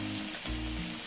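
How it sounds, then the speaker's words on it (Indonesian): Vegetable-stuffed tofu frying in hot oil gives a steady, dense sizzle with a slight surge partway through, close and continuous with no voices. "kita goreng lagi ya teman-teman ya"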